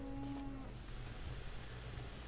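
Cattle mooing in the Railroads Online train game: a sustained low bovine moo at the start, fairly close, then fading into a steady ambient rumble with no talking.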